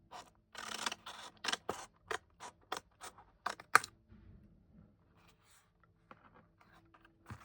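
Scissors snip through card stock in a quick run of about a dozen crisp, close cuts, each a sharp short crunch, followed by quieter rustling and a few faint snips; no one speaks.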